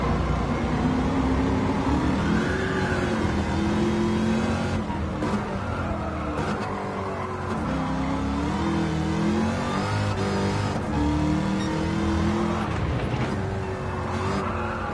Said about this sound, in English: Oh wow, this sounds insane with a supercharger.